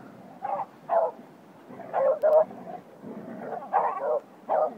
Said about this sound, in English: Such a good Beagle!